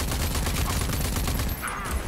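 Rocket fire and explosions in the shooter game Rage 2 make a dense, continuous roar of blasts that stays loud and close for about two seconds.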